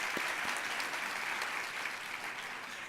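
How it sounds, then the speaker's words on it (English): Conference audience applauding during an opening plenary session, a steady, even wash of many hands clapping at moderate distance throughout, with no voices standing out. "let's have another round of applause for Colleen Echohawk and Abigail"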